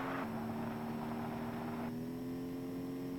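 A damaged car in the vehicular combat game Interstate '76: Nitro Pack gives a steady, droning engine hum with a rougher, noisier stretch early on before it settles to a smooth tone. No one speaks.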